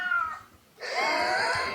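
A cat meows in two drawn-out cries, the second louder and longer than the first, close by with no talk over it.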